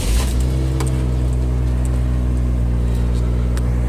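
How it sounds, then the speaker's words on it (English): A 2002 Chevy Trailblazer engine idles close by with a smooth, steady, low rumble and an even drone for the whole stretch, with no voices. "let's go ahead and start this up and listen to this engine."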